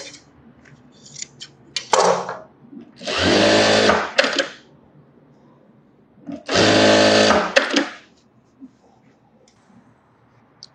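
Sewing machine stitching a sleeveless blouse in a tailoring session, running in two loud bursts of a few seconds each, with quieter handling noise and faint sounds between them.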